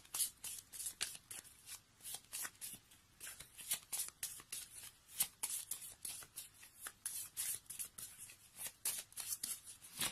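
Tarot cards shuffled by hand for a reading, a quick run of crisp riffling and flicking bursts in an irregular rhythm, close and quiet, with no voice over them.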